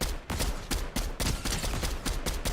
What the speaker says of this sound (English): That's a Cybertron cannon that he's got.